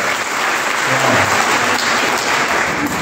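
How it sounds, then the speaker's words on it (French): A congregation applauds for Marc during an All Saints' Day Mass at a parish church in Lambaréné, a loud, continuous clapping that fills the room evenly from start to finish. "On peut applaudir pour Marc."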